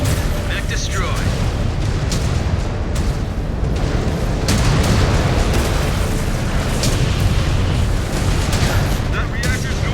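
Mech exploding in the MechWarrior 5: Clans battle, loud booming blasts and crackling detonations over continuous combat rumble, with voices talking through it.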